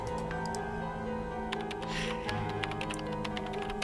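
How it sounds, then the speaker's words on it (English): Rapid, steady touch typing on a computer keyboard in the visual novel game ChäoS;HEAd, light clicks pattering over a sustained background music bed. "he began touch typing"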